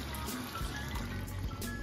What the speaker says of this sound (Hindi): अब इसमें जो है मैं तकरीबन 1 कप पानी डालूंगी कि ये अच्छे से प्याज जो अच्छे से घुल जाए।